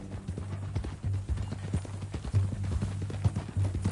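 Horse hooves clip-clop steadily in Red Dead Redemption 2, a quick, close, even rhythm of hoofbeats over a low ambient hum, with no speech.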